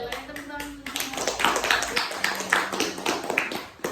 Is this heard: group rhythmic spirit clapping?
yes